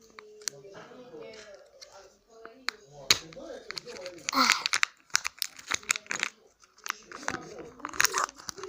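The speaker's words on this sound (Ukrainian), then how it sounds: "Тому буду придержувати ногой, поки відкриваю кіндер" A Kinder Surprise egg's foil wrapper crinkles and tears in short bursts up close while a person talks over it, holding the egg with a foot.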